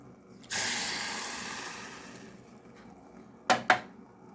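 Water poured from a cup into a saucepan on a stove while making mint syrup, a broad splashing gush that fades over a few seconds, followed by two short clinks or splashes near the end.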